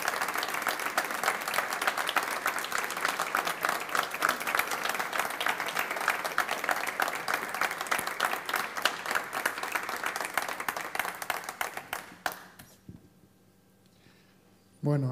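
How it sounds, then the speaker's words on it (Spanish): Sustained audience applause for Rosa at a historical studies bulletin presentation in Donostia, steady dense clapping for about twelve seconds before fading to near silence, with a brief sound at the very end. "este aplauso bien merecido para Rosa"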